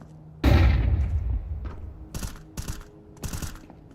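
A Counter-Strike 2 flashbang goes off with a sudden loud, close bang that decays over about a second, followed by several short, sharp mechanical clicks and taps from in-game action.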